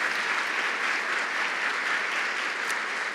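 Church congregation applauding in thanks for those serving in ministry, a dense, steady wash of many hands clapping at even loudness throughout, with no talk over it.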